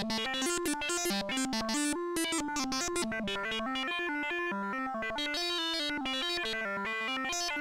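A PM Foundations 3080 VCO sine wave runs through a wavefolder while sample-and-hold modulation steps its timbre and pitch, producing a rapid, rhythmic sequence of bright, buzzy synth notes that play alone and steadily.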